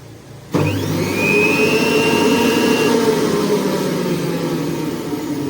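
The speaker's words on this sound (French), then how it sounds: "vous pouvez déjà entendre un petit peu le bruit qu'elle fait. Donc vitesse numéro 1." A Juilist centrifugal fruit and vegetable juicer of up to 800 W switches on and runs at its first speed, giving a steady, fairly loud motor whine with a rising high tone that holds evenly, with no voices.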